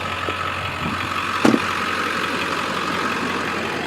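A 2002 Ford F250 pickup's 7.3 Powerstroke diesel idles at its factory idle speed, a steady close rumble running throughout with one brief clack in the middle.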